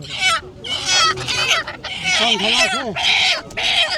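Chickens cluck and squawk close by in bursts at a village fish market by the Padma river, with people talking and haggling over prices over the noisy flock.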